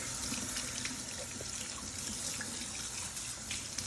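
Tomato liquid pours from a bowl into a kitchen sink, making a steady, close splashing gush with light trickles and no talk for the length of the pour.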